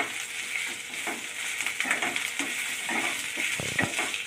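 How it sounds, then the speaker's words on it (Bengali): Chopped onion, garlic, green chili and ginger fry in a pan while being stirred, with a steady close sizzle and occasional scraping stir strokes. "পেঁয়াজ কটা, রসুন, কাঁচা লঙ্কা আর আদা এই দেখেন ভেজে নিলাম"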